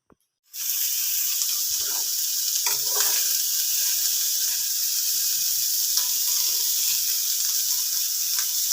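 Bitter gourd palya ingredients frying in a pan, a steady loud sizzle that starts abruptly and holds evenly throughout, with a few faint clinks of stirring underneath.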